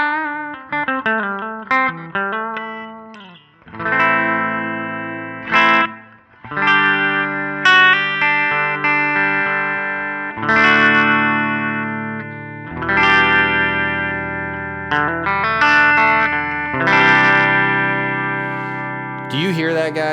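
Electric guitar through a Line 6 Helix Jazz Rivet 120 amp model with stock settings plays chords and single notes, loud and bright with a harsh upper edge, ringing sustained phrases separated by short gaps.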